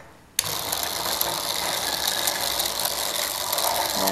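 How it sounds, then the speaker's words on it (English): A small Mars robot model starts up with a sudden onset and keeps walking on meshing plastic gears, giving a steady, loud, buzzing mechanical whir with rapid ratcheting clicks throughout. "let's see what this Mars robot can do"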